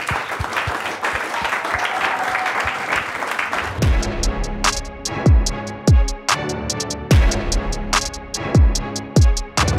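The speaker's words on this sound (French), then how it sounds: "On peut les applaudir, évidemment." An audience applauds presenters at an evening business event, steady clapping building into a louder, fuller burst of claps that continues throughout.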